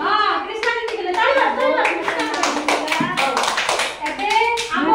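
Young children clap their hands together during an early childhood classroom activity, a quick run of sharp claps mixed with lively children's voices and chatter throughout.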